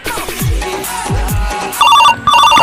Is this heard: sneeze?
no